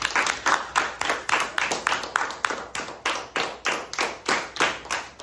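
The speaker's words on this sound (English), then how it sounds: "give that man a round of applause." A small audience at a how-to demonstration claps in an uneven, rhythmic way, with individual claps standing out in pulses, moderately loud, and no talk over it.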